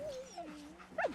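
Dog companion in Fallout 4 making soft whining and whimpering sounds, a gliding whine followed by a brief higher yip, faint over a quiet background.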